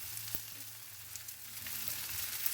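Beaten egg sizzles in a hot pan of leftover fried rice, a steady hiss of frying that holds close and even throughout, with a faint low hum beneath and no talking.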